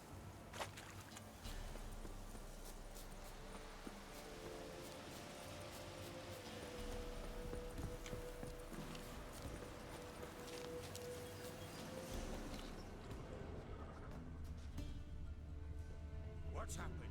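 Roach the horse clip-clopping along at a steady walking pace in The Witcher 3, hooves continuous under ambient game sound and music, with a faint voice in the background.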